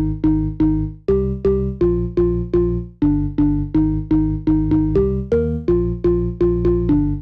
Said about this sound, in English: So now the M1 organ on its own sounds like this.